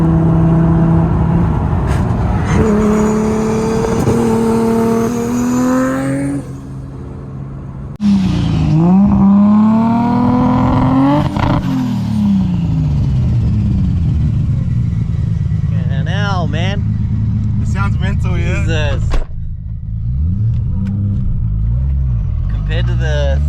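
A built Nissan Skyline GT-R R33 with big turbo and dog box gearbox, engine revving hard and climbing through quick gear shifts, loud and close, then dropping off before more sharp revs and turbo bursts; voices talk throughout.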